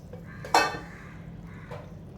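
A spoon stirs pitha batter of flour and warm water in a bowl, giving one sharp clink, then soft scraping and a lighter knock over a quiet background with no voices.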